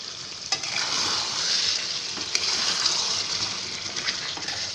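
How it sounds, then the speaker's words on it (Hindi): Chicken and tomato paste frying in oil for a dhaba-style chicken curry, a steady close sizzle with occasional stirring scrapes, no talking. "टमाटर को भी हम 5 मिनट भून लेते हैं"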